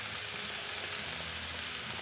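Rice being stirred and frying in a pan for a home-cooked lunch, a steady soft sizzle with faint scraping, quiet and close, with no one talking.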